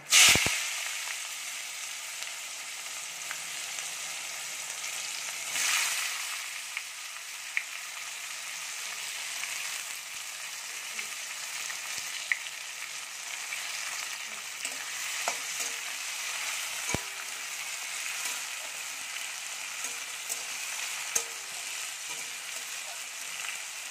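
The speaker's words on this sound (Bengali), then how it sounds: "পেঁয়াজটা হালকা ভাজা ভাজা হয়েছে" Onions sizzle and hiss steadily with black peppercorns in a hot pan for mutton curry, with occasional faint clicks of stirring, close and continuous, no one speaking.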